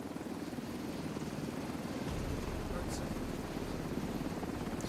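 A video game helicopter drones steadily from start to finish with a low rotor rumble, with a few faint higher chirps from the game over the top.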